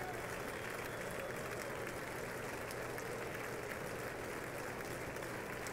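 Democratic lawmakers in the House chamber applauding President Biden at the 2024 State of the Union, a sustained, even roar of clapping from a large crowd with steady background murmur.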